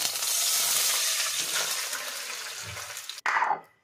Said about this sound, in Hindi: अब ये थोड़ा सा इसमें पानी जा रहा है।